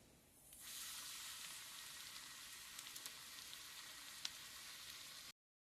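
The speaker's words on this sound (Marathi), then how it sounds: "बघा कसे मस्तपैकी मासे तळले जात आहेत" Fish coated in semolina (rava) frying on a hot tava, a steady close hiss and sizzle that starts abruptly and holds evenly, with a few faint pops and no talk.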